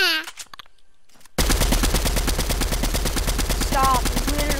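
Rapid video game gunfire erupts after a short quiet lead-in, a dense, loud, steady automatic stream of shots that holds to the end, with a faint voice or game sounds early on.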